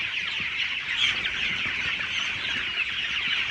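A dense, continuous chorus of clucking broiler chickens, many birds together, steady and fairly loud with no talking.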